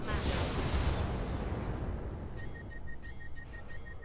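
Weapons fire from a mech in the video game Roguetech, with acid and inferno loadouts on a Warlord: a dense, continuous rumbling barrage of blasts that fades into ringing electronic tones and beeps toward the end.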